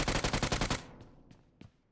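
A burst of rapid automatic gunfire in PUBG Mobile, loud and rhythmic for under a second, followed by a few fainter, distant single shots.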